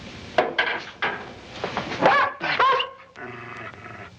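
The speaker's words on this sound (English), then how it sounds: "What happened to the dog? I'm afraid I hurt him." A dog in a period drama yelps and cries out in pain after being struck, a few sharp broken yelps followed by rapid whimpering cries, close and loud with no talk over it.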